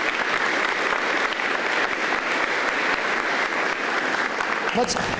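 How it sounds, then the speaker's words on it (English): An audience at a school apprenticeship signing day claps steadily and fairly loudly for several seconds, with a brief voice cutting in near the end. "Let's give another big round of applause for the apprentices, their parents, and to the sponsor businesses."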